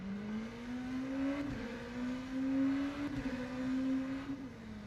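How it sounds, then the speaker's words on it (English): A race car engine in the racing simulator rFactor 2 screams close to its redline at Circuit de la Sarthe, holding a high steady whine with brief dips as it shifts, alone without speech. "After it's redlined, but before it's on the rev limiter, you can hear the engine"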